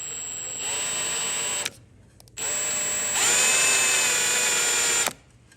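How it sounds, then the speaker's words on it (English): A power drill with a quarter-inch bit whirs in two bursts, a high steady whine that stops briefly, then resumes louder before cutting off. "Take our 1/4 inch drill bit."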